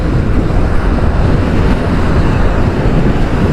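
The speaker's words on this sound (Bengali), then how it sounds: "বাতাসে তো কাঁপাই ফেলতেছে। পদ্মা এই মাওয়া এক্সপ্রেসওয়েতে আসলেই বাতাস অস্থির করে ফেলে।" Strong wind buffets steadily on the Padma Mawa expressway, a loud unbroken roar of gusts rumbling across the microphone with no voices.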